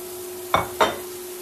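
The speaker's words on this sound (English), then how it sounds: "Chuck in the veggies" Chopped vegetables tossed into a hot pan for a peanut butter chicken stir fry with noodles: two quick, close clattering sizzles in fast succession over a steady kitchen hum.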